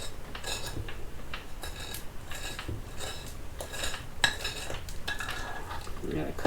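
A spoon stirs flour into peach cobbler batter in a bowl, making steady scraping strokes with repeated clinks against the dish. The sound is close and moderately loud, with no talking.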